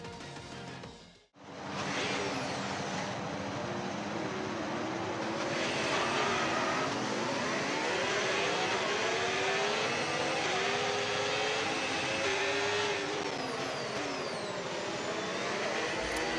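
Video-game Formula 1 cars on the Miami formation lap, on soft tyres, give a sustained high engine whine with shifting tones. The whine starts after a brief silent gap and continues steadily.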